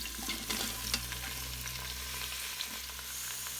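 Onions sauté in an Instant Pot with a steady, moderately quiet sizzle and occasional faint stirring ticks over a low hum.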